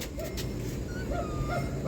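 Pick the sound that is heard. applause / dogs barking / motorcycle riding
dogs barking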